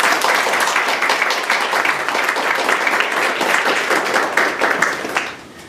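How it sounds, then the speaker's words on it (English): Sustained audience applause for a speaker at a Spiritist talk on depression in England, dense and steady throughout before tapering off near the end. "he deserves a round of applause"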